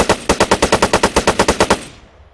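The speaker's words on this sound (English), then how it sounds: "So let's try out this gun. We'll go into fully auto" Fully automatic rifle fire in the Arma 3 video game: a rapid, evenly spaced burst of about fifteen loud shots, then a short fading tail, with no voices.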